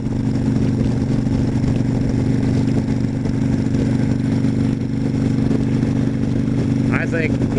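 A Harley-Davidson motorcycle engine idles with a loud, steady low throb and a continuous mechanical hum throughout, close by.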